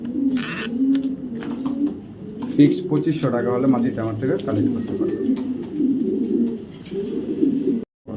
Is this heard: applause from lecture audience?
no